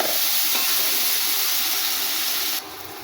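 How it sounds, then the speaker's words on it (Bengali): Onion and garlic fry in hot oil for a soybean curry, giving a steady, close, bright sizzle that runs without pause and drops slightly quieter near the end. "পেঁয়াজটা সুন্দর করে ভাজতে হবে, বাদামি করে ভেজে নিতে হবে।"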